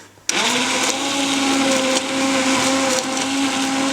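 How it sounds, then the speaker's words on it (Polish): A handheld immersion blender switches on and purees minestrone soup, a loud, close, steady motor whine with a grinding edge that runs without pause, the pitch dipping briefly now and then. "Mam taki ręczny mikser i bzium bzium miksujemy."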